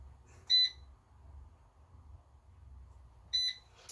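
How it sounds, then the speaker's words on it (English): Air fryer set to preheat gives two short, bright electronic beeps about three seconds apart, heard over a faint low hum in a quiet kitchen. "So I'm going to fire up the air fryer"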